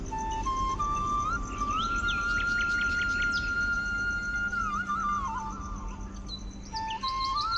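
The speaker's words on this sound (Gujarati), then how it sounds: "પક્ષીનો અવાજ કેવો આવે છે, મોર બોલે છે, કોયલ બોલે છે, ચકલીઓ બોલે છે." Birds call at dawn near Pavagadh, peacock, koel and sparrows among them: overlapping chirps, repeated bright whistles and trilling notes over a soft insect hum, close and lively, with no talk.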